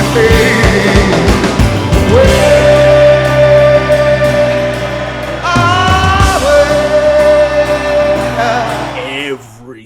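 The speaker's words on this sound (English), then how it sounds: "Single person in that crowd is screaming back to them" A loud concert at Madison Square Garden on 20 May 2010, where a huge crowd screams and sings along with the band, the roar of voices blending with the music before cutting off at the end.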